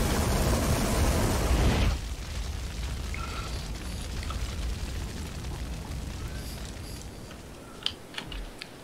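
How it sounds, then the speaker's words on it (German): An explosion in Far Cry 5 gives a loud, dense roaring burst over the first two seconds, then gives way to quieter rumbling and scattered pops. "Erstmal ihn zum Explodieren bringen."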